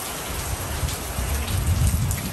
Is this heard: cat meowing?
no